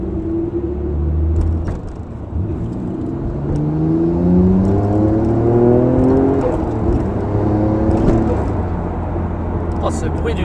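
Nissan Skyline GTR R34 Nismo accelerating, engine pitch rising repeatedly through the gears with a turbo whir, heard from inside the car under steady conversation.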